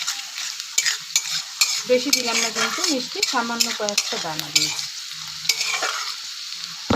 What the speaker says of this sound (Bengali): এবার আমি পেঁয়াজটা দিয়ে দেবো ভাজার জন্য। দেখো পেঁয়াজটা ভাজছে